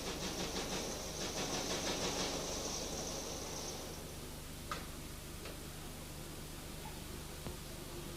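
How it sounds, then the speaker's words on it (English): An SMV Nibbler 3 nibbling machine punches sheet metal with a fast, even ticking stroke over a low motor hum, then the punching stops and the hum continues with a few isolated clicks. "During nibbling, the nibbling punch should be supplied with coolant"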